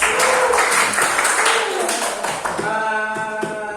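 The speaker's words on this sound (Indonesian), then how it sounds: "Tepuk tangan untuk kelompok 1." Classroom students applaud a student group, brisk loud clapping that thins toward the end as a voice begins speaking.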